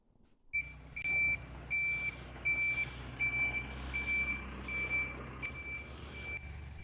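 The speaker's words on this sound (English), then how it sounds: "the first truck arrived in our yard" A truck arrives in a farm yard and backs up, its reversing alarm beeping in a steady rhythm over a low diesel engine rumble, moderately distant.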